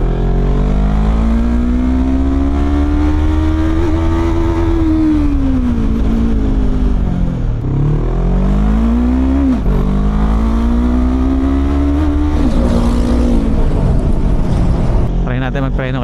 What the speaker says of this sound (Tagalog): Flyby daw tayo, sabi ni Boss Ison.